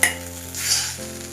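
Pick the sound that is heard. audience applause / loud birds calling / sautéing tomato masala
sautéing tomato masala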